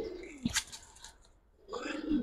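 Sapchila pigeons in a coop give low cooing calls, a short burst early on and a longer rolling coo near the end, separated by a quiet gap.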